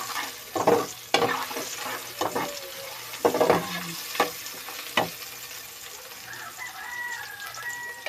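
Ginger sautéing in a pan in a rural Philippine kitchen: a soft, steady sizzle broken by sharp scraping stirs and clanks of a utensil, with a rooster crowing faintly in the background.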